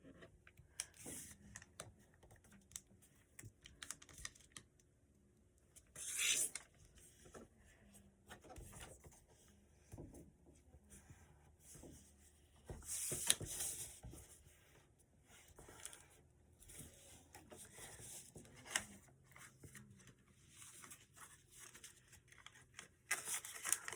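Paper for an origami Nova Alpha jet with missiles and air intakes, folded edge to edge, gives soft, intermittent rustles and crisp creasing scrapes, close and quiet, with a few sharper crinkles between pauses.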